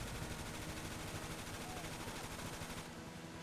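Continuous gunfire in the video game GTA 5 during a drive, a steady dense barrage at low level that stops near the end.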